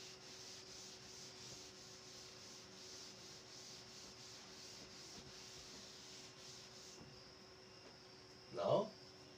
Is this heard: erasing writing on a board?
yes